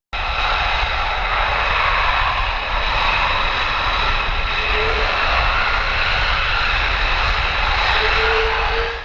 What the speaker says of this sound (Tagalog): nagsagawa ng isang aktibidad sa alternatibong landing zone ang Sandatahang Lakas ng Pilipinas kasama ang United States Special Tactical Team sa Bypass Road sa Lawak, Pangasinan